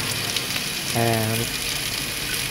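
Prawns with Sichuan pepper and salt pan-frying in a wok, a close steady sizzle with a brief tonal scrape near the middle as the prawns are turned.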